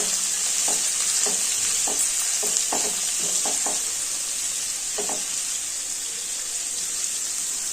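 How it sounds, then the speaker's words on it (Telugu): Cabbage tomato curry is stirred in a hot pan, cooked in its own steam without added water. A constant close sizzle and hiss runs under a series of soft scraping strokes, clustered in the first half and then a couple more near the five-second mark. "కిందిది మీదికి పైది మీదికి తీసుకొని బాగా కలుపుకోండి"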